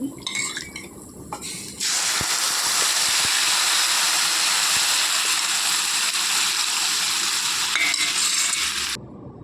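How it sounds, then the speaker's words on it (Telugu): Tempering for dal rasam sizzles loudly in a pan as a sustained close hiss lasting several seconds, framed by light clinks of utensils before and after. "తాలింపు వేసేసుకున్నానండి"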